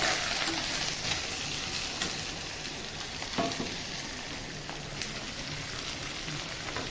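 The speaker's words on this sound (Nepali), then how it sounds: "एकछिन प्याज फ्राई।" Onions fry in hot oil in a pan while chicken bhutuwa is cooked at home, a dense, even sizzle like light rain holding steady throughout, with faint occasional stirring taps.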